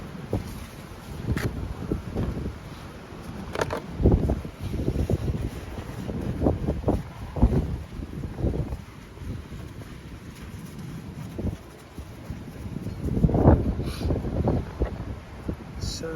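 Storm wind buffeting a microphone outdoors beside a Mercedes 220CE W124 coupe, producing continuous low rumbling gusts with irregular bursts and no clear voices.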